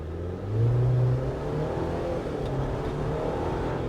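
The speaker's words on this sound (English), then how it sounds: "I wanna do some stop and go acceleration here" A 2024 Jeep Wrangler Sport S pulls away from a stop at a red light, its engine rising into a steady, loud acceleration drone heard from inside the cabin, with no talking.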